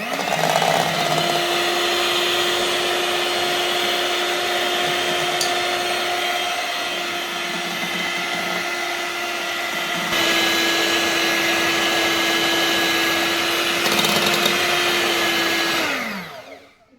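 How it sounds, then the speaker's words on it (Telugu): A kitchen blender whirs steadily at a constant pitch while mixing wheat flour batter, running continuously for about sixteen seconds before its motor winds down and stops. "ఇది కూడా బాగా బ్లెండ్ అయిపోయింది"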